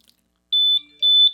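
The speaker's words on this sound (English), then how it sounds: "when this alarm goes off" Two sharp, high-pitched electronic alarm beeps from an Eve Water Guard water leak sensor, each lasting about a quarter second, loud and close in otherwise near silence.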